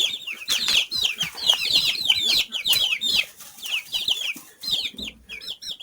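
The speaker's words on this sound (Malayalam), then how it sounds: "ഇപ്പോൾ വിരിഞ്ഞിട്ട് ഒരു മാസമായ കുഞ്ഞുങ്ങളാണ്" Month-old chicks crowd a poultry shed, their high, rapid cheeps and peeps overlapping in a constant, close, busy chorus with faint rustling beneath.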